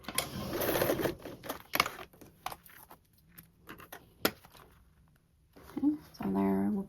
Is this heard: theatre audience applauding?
no